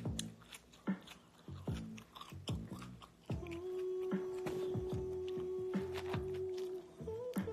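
Someone bites and chews food close to the microphone, a series of crisp crunches and wet chewing sounds with a faint steady tone underneath in the second half.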